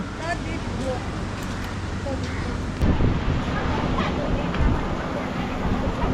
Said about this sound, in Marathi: समुद्र खवळलेला तुम्हाला बघायचा आहे का